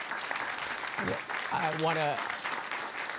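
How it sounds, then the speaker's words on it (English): Audience applause for a budget survey panel at a Washington, D.C. release event, a broad wash of clapping running under a voice speaking briefly. "Please join me in a round of applause."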